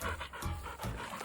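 Dogs panting close by with quick, continuous breathy huffs after following an ATV, steady throughout with no talking.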